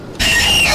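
A sudden loud, shrill screech from the Screech monster in the video game Doors bursts in after a brief quiet moment and holds steadily to the end, close and piercing.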